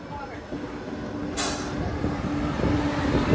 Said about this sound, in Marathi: आपली गाडी आता पंढरपूरच्या दिशेने मार्गस्थ झालेली आहे